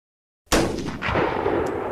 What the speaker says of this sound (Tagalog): Isang malakas na pagsabog ang yumanig sa buong battlefield.